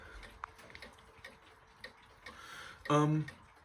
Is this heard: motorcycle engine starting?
no